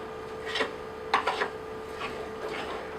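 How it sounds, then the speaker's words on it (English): Oats and other wholegrain waffle ingredients are stirred together in a bowl at a vegan cookery demonstration, giving a few short scraping, rasping strokes over a steady low room hum. "Right, so putting all of them in there together, and I just stir them through."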